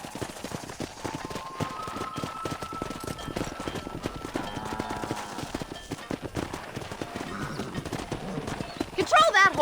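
A horse in the western video game Red Dead Redemption trots with a steady clip-clop of hooves while other horses whinny, and voices talk over the hoofbeats throughout.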